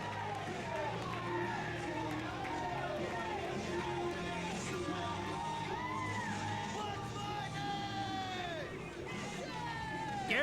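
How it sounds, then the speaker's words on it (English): A wrestling crowd at an event in Bethany cheering and yelling for wrestler AJ Cruz, a sustained roar of whoops and shouts with voices talking amid the noise. "AJ Cruz getting a massive applause from this crowd here in Bethany"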